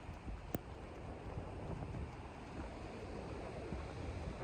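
Waves on the open sea at Pacitan beach wash in a steady, dense roar mixed with wind noise on the microphone, with a brief sharp knock near the start and no voices.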